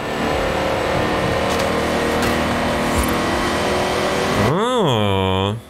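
Opel Calibra engine in Forza Horizon 5, a loud steady drone while driving, then near the end a sharp rev that rises and falls in pitch before cutting off.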